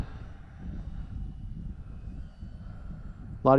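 A low, steady airplane engine drone fills the whole stretch during a landing on a runway, holding at an even level until a brief sharp burst right at the end.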